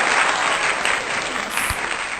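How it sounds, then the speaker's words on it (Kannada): An audience claps at a photoshoot event, a dense, fairly loud burst of applause that stays steady for a couple of seconds. "ಹುಷಾರ್ಗೆಲ್ಲರೂ ಚಪ್ಪಾಳೆ ತಟ್ಟಿ"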